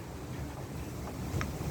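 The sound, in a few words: wind blowing outdoors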